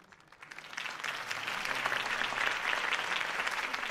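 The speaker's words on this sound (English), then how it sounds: "could have heard that applause" Crowd applause following a mayoral campaign speech, building quickly from a quiet start into steady, dense clapping that holds at moderate volume to the end.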